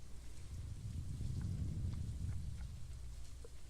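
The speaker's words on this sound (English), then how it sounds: "It's raining." Steady rain in the Stardew Valley video game, a soft continuous patter with faint scattered drip ticks and no talk.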